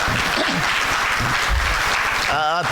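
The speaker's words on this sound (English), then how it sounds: "Can we give him another round of applause?" Steady clapping from a crowd at a scholarship luncheon fills the whole stretch, loud and continuous, with a few voices mixed in.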